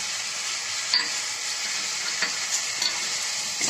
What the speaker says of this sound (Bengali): দিয়ে এটাকে একটু ভালো করে ফ্রাই করে দেবো।